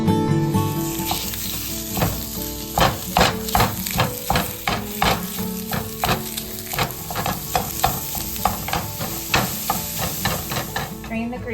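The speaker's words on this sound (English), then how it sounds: "he's gonna fry up our Italian sausage" Italian sausage fries on a stovetop at medium-high heat, a steady close sizzle broken by repeated scraping stirs at an uneven rhythm.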